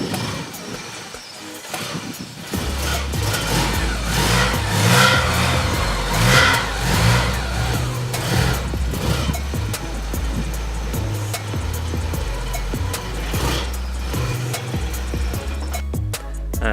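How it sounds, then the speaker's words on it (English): Porsche 944 engine running close by, a steady mid-pitched idle broken by repeated throttle blips that rise and fall in pitch, loud and continuous throughout. "I'm going to take the car for its first drive and we'll see how it handles."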